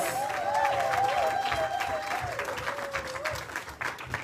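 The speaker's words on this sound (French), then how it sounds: "Can the assembly applaud?" A wedding congregation at a religious ceremony applauds steadily throughout, a sustained crowd clapping with a sung or sustained tonal voice line running over it.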